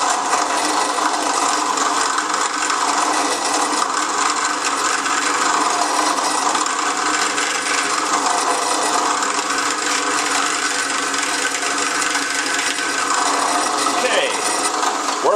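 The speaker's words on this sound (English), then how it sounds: "Now we'll just drill straight through." Continuous harsh grinding of a drill bit boring through the wood of an Engelhardt double bass, a loud steady rasp that holds for about fifteen seconds without pause.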